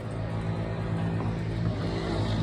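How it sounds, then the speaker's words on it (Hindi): Motorbikes pull up with local riders, engines rumbling low and close in a steady, loud idle with slight revving over a few seconds. "ये अपनी बाइक्स आ गई हैं यहाँ पे।"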